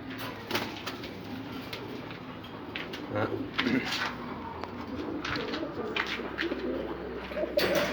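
Soft Egyptian pigeon coos murmur through a busy indoor space, with faint rustles and bumps scattered around them.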